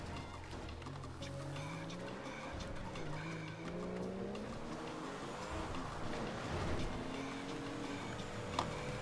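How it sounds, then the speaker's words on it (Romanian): A Porsche in the video game GTA V drives and skids, its engine note rising and falling with squealing tires, moderately loud and continuous with faint sounds from the game in the background. "Ce fain sună Porsche."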